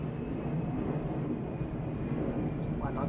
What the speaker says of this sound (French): Fait que, j'ai un avion.